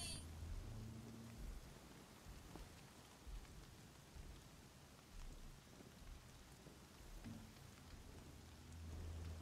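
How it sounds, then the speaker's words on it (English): Steady rain patters continuously with faint low rumbles in the video game Horizon Zero Dawn, no voices, a soft even downpour throughout. "Oh, quit raining. Makes it hard to see."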